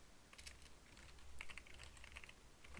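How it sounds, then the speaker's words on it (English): Typing on a computer keyboard while a first-person shooter is built in Unity, with a short run of quiet, quick key clicks in an uneven patter. "I can't type, there you go."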